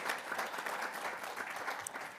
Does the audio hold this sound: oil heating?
no